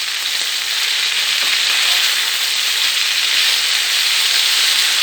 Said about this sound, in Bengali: পটলটা আমি এবার একটু ভাজা ভাজা করে নেব।